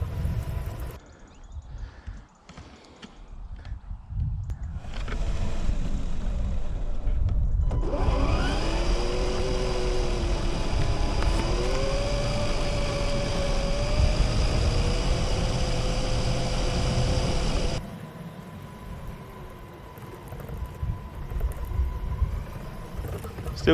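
A small radio-controlled car runs at speed in second gear, its electric motor giving a high, steady whine that rises and falls as it accelerates and turns, loud and sustained before cutting back to quieter outdoor background.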